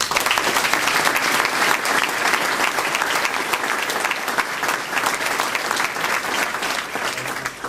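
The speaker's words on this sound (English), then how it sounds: "Please join me again in a round of applause to them." Sustained, loud audience applause fills the room at a community event celebrating Portuguese culture in Guernsey, a dense steady clapping with no pauses throughout.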